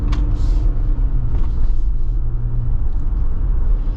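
Road noise inside a modified 2025 Jeep Wrangler Rubicon without top insulation: a loud, steady low rumble of tires and drivetrain with faint whistling wind over it, continuous and without talk.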